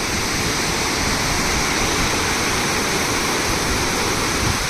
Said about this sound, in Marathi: गोड नदी अक्षरशः गडूळ पाण्याने फेसाळून जात आहे